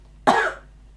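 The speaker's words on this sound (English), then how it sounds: "She coughed into her elbow." One sharp, loud cough from a woman, close up, short and breathy with a quick fade, heard alone against quiet.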